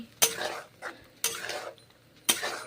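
Mushroom curry is sautéed in a pan, and a utensil strikes the pan three times with sharp metallic clanks. Each clank rings briefly, and quieter scraping follows between them, with no talk.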